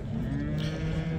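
A cow lows briefly among livestock at a weekly Wednesday market in Souhila, Algeria, a short deep moo against steady crowd and market noise.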